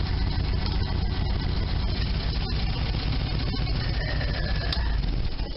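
A warm Sunbeam Alpine engine idles during a valve adjustment, giving a steady, dense rumble that holds without change throughout.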